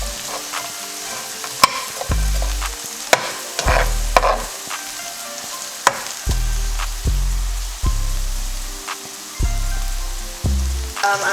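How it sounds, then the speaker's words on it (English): A cup of frozen vegetables stir-frying in a hot pan for prawn fried rice, a steady loud sizzle punctuated by repeated scraping stirs and clanks at irregular intervals, with no talking. "I'm now going to add in my cup of frozen veg. Just get that to cook down nicely as well for about a minute."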